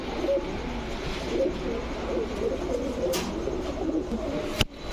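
Pigeons for sale, silver and cumin-necked pairs among them, coo in a continuous low burbling chorus close by, with a sharp handling knock near the end.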